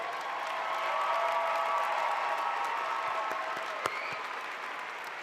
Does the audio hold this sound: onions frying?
no